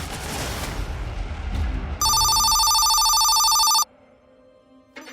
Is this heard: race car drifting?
no